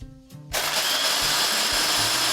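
A mixer grinder grinds frozen blueberries, a loud, steady, close whirring roar that starts abruptly after a brief quiet moment and continues without letup.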